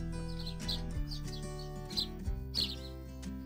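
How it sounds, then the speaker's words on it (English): Small birds chirp in a Scottish countryside garden, a few short tweets scattered across a few seconds over a steady, sustained low tonal backdrop. "lots of birds in the garden"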